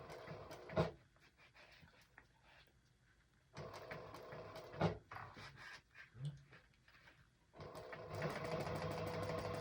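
A sewing machine stitching the lining of a small wristlet bag, running in bursts of rapid mechanical whirring with pauses between, then a longer steady run at the end, close and fairly quiet.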